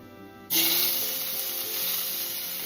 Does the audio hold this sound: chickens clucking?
no